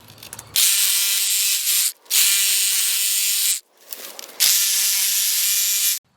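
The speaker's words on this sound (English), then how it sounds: "One's with a Sawzall, and I'll show you the next one up here" A Sawzall reciprocating saw cuts through blackberry canes outdoors in three loud, close bursts of buzzing, each about one and a half seconds long, separated by brief silences.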